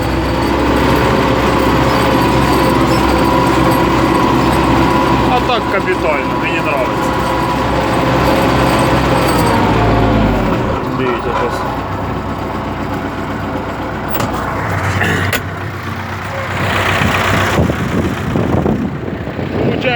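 A tractor engine labors steadily nearby pulling a spring harrow under load, its drone rising and falling, while someone talks over it.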